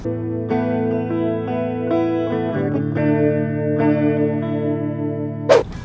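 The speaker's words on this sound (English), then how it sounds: "As the 2 signals are going through, you get the chorus effect." Sustained electric guitar chords through a shimmering chorus pedal, warbling and doubled, ending with a brief bright scrape.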